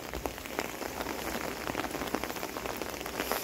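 Pouring rain beats down steadily on an outdoor surface, a dense, close patter of drops with no voices.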